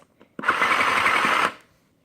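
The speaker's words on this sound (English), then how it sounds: "And then I'm just going to like crease it again and do 2 more spot stitches." A toy sewing machine from a glitter deluxe sewing studio stitches fabric in one steady burst of buzzing motor whir, lasting about a second, close and fairly loud with no talk.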